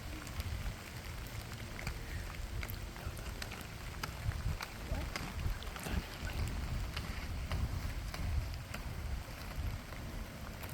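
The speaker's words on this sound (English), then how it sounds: "It's really windy." Strong wind gusting outdoors during a storm chase after a downpour has eased, a steady broadband roar with rumbling buffeting and scattered sharp hits, without any voices.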